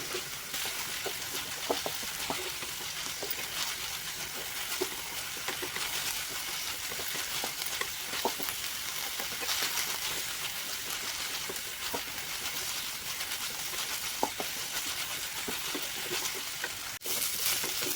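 Manathakkali greens stirred and sautéed in oil over high heat: a continuous, even sizzle with dense crackling spatter and faint stirring scrapes, moderately quiet and unbroken for the whole stretch.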